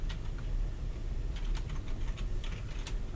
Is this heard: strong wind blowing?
no